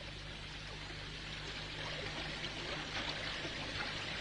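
River water streams and trickles steadily in a broad, even wash, close and continuous, used as an audio-drama sound effect with no speech over it.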